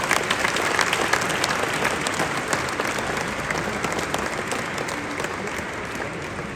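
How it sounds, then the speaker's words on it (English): Guests at an Azerbaijani Independence Day and Armed Forces Day reception give a sustained round of applause, many hands clapping steadily from a moderate distance, slowly easing in intensity. "please, round of applause to Erica also"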